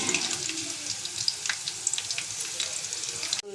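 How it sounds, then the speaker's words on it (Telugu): Green chillies frying in hot oil for a dondakaya (ivy gourd) fry, a steady close crackling sizzle with scattered sharper pops, running on alone before cutting off abruptly at the end. "పచ్చిమిర్చి వేయించుకోవాలి."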